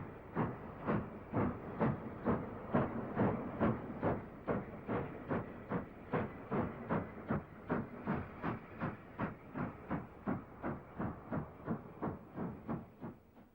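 SECR E1 class steam locomotive pulling away with a rake of narrow coaches on the Hastings line, loud rhythmic exhaust chuffs steadily quickening, with steam hiss throughout and no talk.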